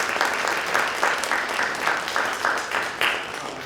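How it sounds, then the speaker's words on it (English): Steady applause fills a theater during a post-show conversation as the audience claps for the guests. The clapping is even and dense throughout. "Please give them a round of applause for joining us"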